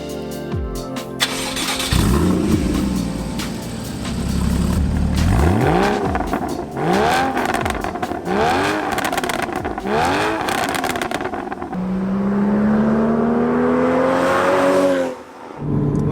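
A Porsche Cayman 981 engine cranks and fires, then revs through several sharp rising and falling sweeps before settling into a steady drone as the car pulls away, loud and close throughout.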